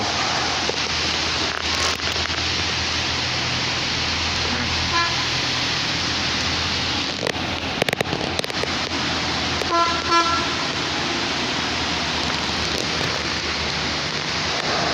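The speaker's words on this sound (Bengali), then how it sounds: "নিচ দিয়ে গাড়ি যাচ্ছে" A car passes below in steady heavy rain at a college field in Bogura, its sound blending into the dense rain hiss, with a short honk and some horn toots heard in the distance.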